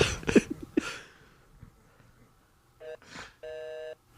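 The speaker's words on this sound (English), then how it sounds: "is that a busy signal?" A telephone busy signal on a call: brief talk at the start, then a quiet stretch, then steady electronic tone bursts, the last a clear sustained buzzing tone about half a second long.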